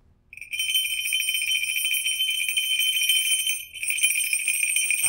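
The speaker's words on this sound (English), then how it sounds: "he developed what was called the acorn bell. And you can see it's two different types of metals inserted together, and they make semitone differences." An acorn-style hawk bell made of two different metals inserted together, tuned a semitone apart, rings close up on its own as a steady, bright metallic jingle that briefly dips before shaking on continuously.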